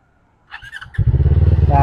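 An FKM Falcon X400 motorcycle starts with a brief starter whir and electronic chirp, then its engine catches into a loud, close, pulsing idle with a rapid steady rhythm.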